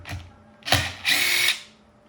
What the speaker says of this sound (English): Phillips number 2. And I'm gonna put on the side all the screws.